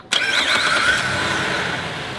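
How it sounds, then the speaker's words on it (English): A car engine cranks and catches in one quick, loud start, then settles into a steady close idle with no talk. "start the vehicle with everything turned on"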